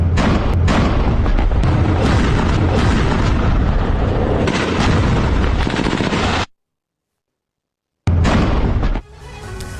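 Bombing of Al-Shifa hospital in Gaza: loud, dense booming blasts and crackling gunfire-like bursts fill most of the stretch, broken by a sudden silent gap before the heavy rumble returns and then drops away.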